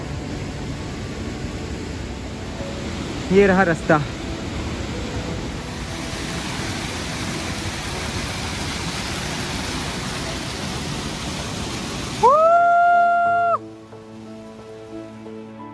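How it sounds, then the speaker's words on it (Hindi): Continuous roaring rush of a waterfall falling from a great height on the Pindari Glacier trek fills the scene, with a brief spoken phrase early on and some tonal chimes near the end. "झरना देखिए कितने ऊपर से आ रहे हैं।"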